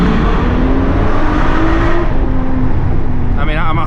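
A Ferrari V8 engine roars steadily under acceleration with light throttle, loud and close, a continuous revving drone that eases slightly near the end.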